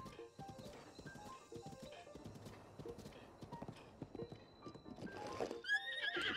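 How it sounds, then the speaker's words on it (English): Giant King of Horses in Zelda: Breath of the Wild, with clip-clopping hooves at an uneven pace and a loud neigh and whinny near the end, faint game music underneath. "Look at the freaking horse,"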